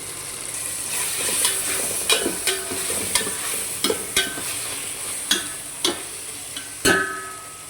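Ginger garlic paste being stirred into tomatoes frying in a pan for mutton biryani: a steady sizzle runs throughout, with spoon scrapes and clacks against the pan recurring every second or so, close and clear, no talk.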